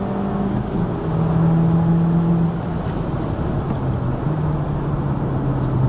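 Race car engine at Spa-Francorchamps during a public driving experience, a steady sustained drone with a slowly shifting pitch as the throttle is held open, loud and close from inside the cockpit with no talking.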